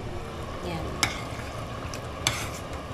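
Red lentils cook in a kitchen pot with a soft, continuous bubbling sizzle, punctuated by two sharp clinks of a utensil against the pot.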